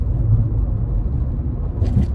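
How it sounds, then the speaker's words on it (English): An Aston Martin passing on the road: a loud, continuous low engine rumble, close by, lasting the whole stretch with no talk over it. "Look at that Aston Martin go"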